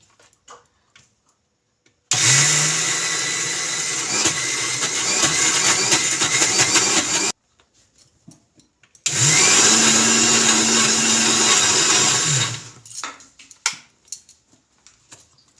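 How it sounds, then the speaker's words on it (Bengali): Soaked lentils ground in a blender, two loud whirring bursts of about five and three seconds, each spinning up and cutting off, separated by a short quiet pause. "এবার আমি ডালটা বেটে নেব।"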